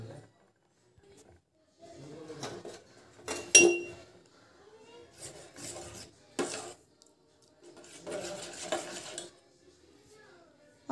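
A spoon stirs sewaiyan vermicelli with almonds in a metal pan, making intermittent clinks and scraping knocks in quick clusters separated by quiet pauses, with some soft talking.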